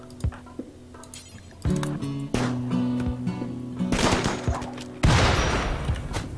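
Gunfire rings out in the video game RimWorld Alpha 17, with repeated loud shots and rapid bursts that grow heavier toward the end, layered over a steady tonal music bed.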